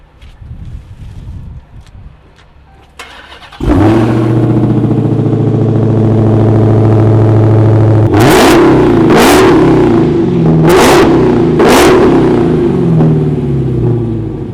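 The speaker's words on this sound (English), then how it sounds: "I know you all want to hear it run, so here we go" A 2019 Dodge Challenger SRT Hellcat Redeye with an 800-horsepower supercharged engine cranks and fires into a loud, steady idle, then barks out four sharp, close revs, wind buffeting the microphone.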